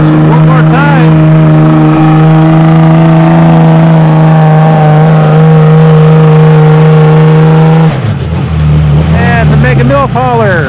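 A big red Dodge truck pulls a weighted sled down a tractor-pull track, its engine holding a loud, steady, sustained drone before dropping off abruptly as the run ends, with an announcer talking over it.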